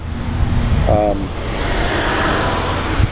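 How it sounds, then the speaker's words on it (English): Steady road traffic hum and whoosh of passing vehicles, fairly close, with a brief tonal sound near the start. "Pardon the traffic noise."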